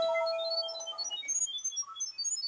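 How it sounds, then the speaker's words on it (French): A steady electronic beep, then a quick run of short, high chirping tones at varying pitches, fairly quiet and with no voices. "l'application vous demande si vous entendez bien le bip"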